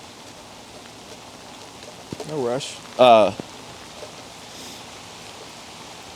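Rain falls outdoors as a steady, even hiss throughout, while a person briefly speaks over it.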